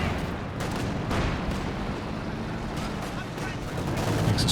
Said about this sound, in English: Artillery dropped on the AT gun out the back.